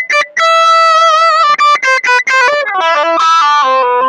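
Electric guitar played through a distortion effect with all controls set to noon except volume, a loud buzzing, sizzling tone with a hissy edge as a run of sustained notes and quick bends fills the whole stretch.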